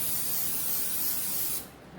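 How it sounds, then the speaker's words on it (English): Cooking oil spray hisses onto the tray of a Ninja air fryer in one continuous, close, loud burst lasting about a second and a half before cutting off. "I spray down the tray."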